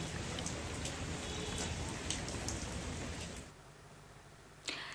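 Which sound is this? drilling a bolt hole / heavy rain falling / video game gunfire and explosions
heavy rain falling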